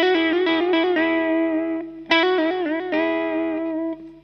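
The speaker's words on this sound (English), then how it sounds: "But with the tremolo, it's gonna sound like this." Sustained electric guitar notes and chords with a fast wavering tremolo pulse and effects-heavy tone, played alone in a few phrases.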